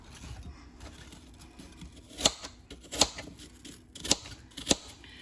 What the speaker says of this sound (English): time to cut up some apples